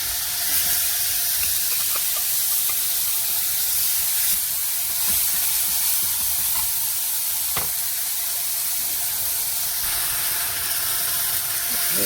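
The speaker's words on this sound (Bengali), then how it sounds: "মশলাটাকে ভালো করে কষে নেব।" Spice masala with ginger-garlic paste sautés in a pan for chole, making a loud, steady, close sizzle that runs throughout, with a few faint scrapes and clicks and no speech.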